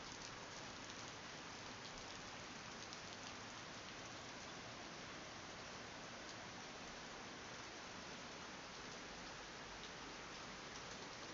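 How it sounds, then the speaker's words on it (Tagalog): Heavy rain pours steadily, a dense, continuous hiss of drops on surfaces with no pauses. "Buhos pa ulan."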